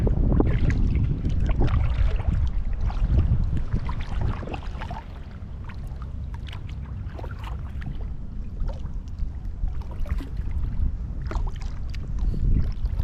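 Rhythmic splashes of a paddle dipping into water while rowing across waves, repeating every second or two over a soft background of wind and gentle waves.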